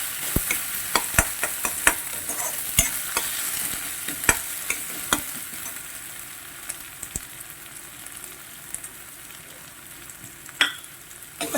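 Tomatoes sautéed with salt in a pan, a steady soft sizzle with frequent sharp clinks and scrapes of a spoon stirring against the pan, close, uneven rhythm, no voices.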